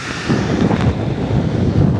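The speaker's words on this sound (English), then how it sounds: "It's very windy at the minute, and hopefully the audio isn't too bad." Strong wind buffets the microphone on an overnight ferry deck between Belfast and Liverpool, a loud continuous roaring rumble that rises and falls in gusts, with no voices.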